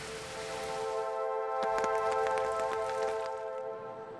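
Rain falling in a Japanese garden, a soft steady patter of drops on surfaces under a sustained musical tone, moderate level, with a few sharper splashes in the middle and no voices.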